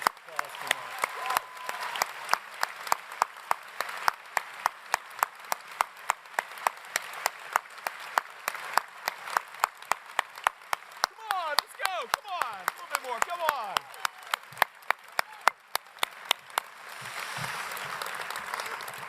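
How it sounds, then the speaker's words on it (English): Applause at the LIPA graduation ceremony for 2020 and 2021, a long sustained wash of clapping from a large audience with sharp rhythmic claps standing out, fading and thinning near the end. "So massive applause for Mark."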